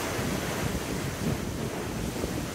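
Sea waves wash along the Anglesey coast in choppy conditions, a constant rushing surf mixed with buffeting wind noise on the microphone.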